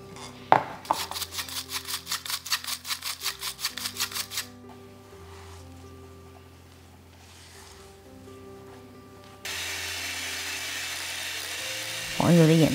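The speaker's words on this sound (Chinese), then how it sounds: "不断中速搅拌，让空气进入。" Electric mixer whirring in pulsing bursts as it beats butter with powdered sugar at medium speed for a chocolate pound cake, loud and close for a few seconds before music takes over.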